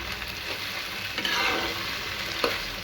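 Onion, tomato and raw mango frying in oil, a soft continuous sizzle broken by scraping stirs of a spoon in the pan, quiet and close.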